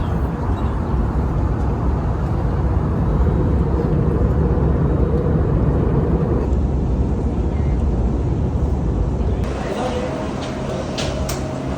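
Steady broadband airplane cabin roar fills the space as the aircraft descends to land, loud and constant, with the tone shifting partway through and speech mixed in beneath.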